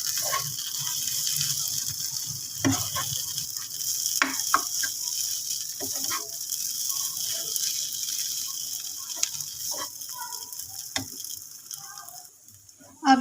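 Samosa filling of potatoes and fresh green coriander being stirred and mixed in a hot pan, a continuous soft sizzle and frying hiss with intermittent scraping and tapping of the spoon against the pan.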